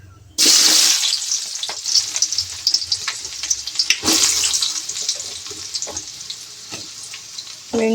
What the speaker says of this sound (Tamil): இதுக்கு பெருஞ்சீரகம் தாங்க போட போகிறேன் தாளிப்பு.